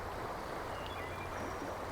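Fast-flowing water on the Neversink River rushes in a steady, broad, close roar with a faint gurgle, constant and unbroken throughout.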